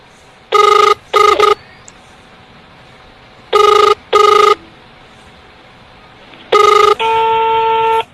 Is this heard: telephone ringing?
yes